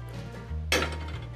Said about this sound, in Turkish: İlk önce tenceremizi aldık ve yavaş yavaş ocağımıza doğru gidiyoruz.